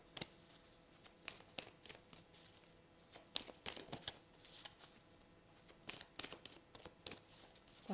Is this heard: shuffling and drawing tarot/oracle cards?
yes